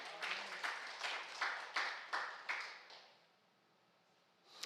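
A church congregation at a Friday worship service claps in rhythmic bursts that fade out, fairly faint and distant, with a brief sound at the end.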